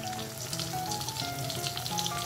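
Mustard paste hits lightly fried fish in a hot pan for a Bengali mustard fish curry, raising a loud, steady, close sizzle that runs unbroken throughout.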